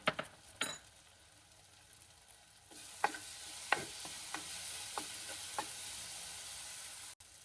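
A fish curry base of softened tomato with chilli powder fries in a pan, a steady soft sizzle broken by sharp scrapes and clinks of a spoon stirring, with no talk.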